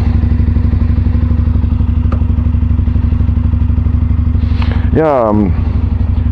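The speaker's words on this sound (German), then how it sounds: "Wollen wir das diesmal starten? 850 GS." A BMW F850GS motorcycle engine runs steadily and loud up close, with a rising rev near the end and a brief voice speaking over it.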